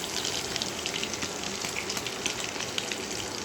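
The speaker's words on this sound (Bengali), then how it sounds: "ফার্স্ট টাইম আমি আজকে ফিশ ফ্রাই বানাচ্ছি।" Fish fry crackling in a pan of hot oil, a dense continuous sizzle with fine popping, close and even in level throughout, with no talking.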